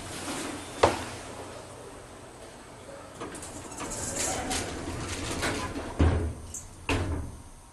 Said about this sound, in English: See how loud this motor is.